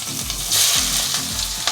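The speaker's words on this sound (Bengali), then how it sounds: "ভাজা হয়ে এলে আমি সেখানে অর্ধেকটার মতো পেঁয়াজ দিয়ে দিচ্ছি" Onions sizzling in hot oil with spices such as pepper and crushed cardamom, a close, steady crackle with brief stirring scrapes and a rising hiss midway.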